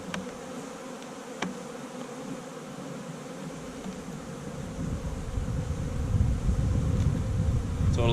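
Honey bees buzz around an open hive during queen cage removal, a dense continuous hum close to the microphone that swells louder toward the end, with faint wind noise beneath.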